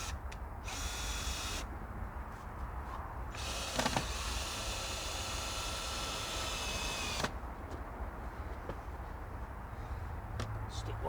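A power drill driving screws into decking boards outdoors on an allotment, with several sustained whirring runs broken by short pauses and clicks, moderately loud and close.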